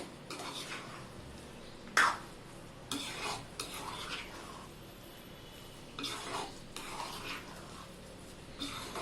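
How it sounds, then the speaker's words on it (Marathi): A spoon stirs raisins into wheat kheer in a pot, giving faint, intermittent scraping and clinking strokes with one sharper knock, heard alone and fairly quiet. "मनुके पण आपण मिक्स करून घेतलेत"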